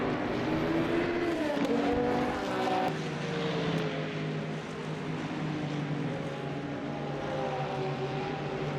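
Engine drone of a GT3 race car during a Le Mans endurance race in the Le Mans Ultimate sim, a loud steady roar with shifting pitch sweeps as it revs, continuous throughout with no talk.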